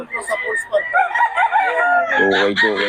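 A stag gamefowl, a Gilmore Sweater rooster at a market stall in Bocaue, gives a close, loud crow and some clucking, with people talking over it.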